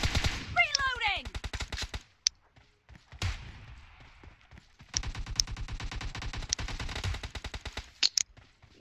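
Rapid automatic gunfire from a PUBG Mobile match, loud bursts of close shots in fast rhythm with pauses between volleys, while a player talks excitedly over the game.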